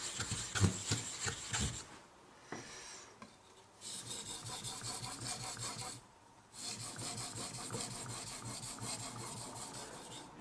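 A kitchen knife's bevel is ground on whetstones with repeated rasping, scraping strokes, close and faint, coming in uneven stretches with short breaks between them and no voices.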